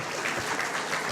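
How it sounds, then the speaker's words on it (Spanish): A church congregation clapping during a sermon, a brief even burst of many hands at moderate distance, no voices over it. "Den un aplauso a Dios por eso."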